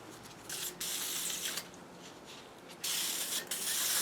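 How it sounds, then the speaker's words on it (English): Spray adhesive hisses onto the backing of a clear lens for a Blade Runner Voight-Kampff machine replica, several soft, fairly quiet bursts with the longest near the end. "Give them a nice even coat of the spray adhesive."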